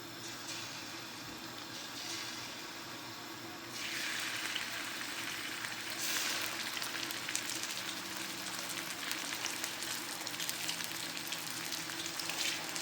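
Prawns frying one by one in hot oil in a pan for masala prawns give a steady, close sizzle that grows louder and busier as more are added, with no talk.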